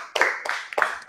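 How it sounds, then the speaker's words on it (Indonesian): A small group of students claps in a few short, uneven bursts, fairly quiet and close, with brief pauses between. "tepuk tangan buat kelompok 1 semuanya ya"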